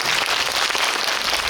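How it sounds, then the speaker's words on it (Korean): A cinema audience at a guest-visit screening of the film Boss at CGV Yongsan I'Park Mall applauds the director, giving a dense, even wash of clapping that fills the room without pause. "감독님 다시 한번 큰 박수"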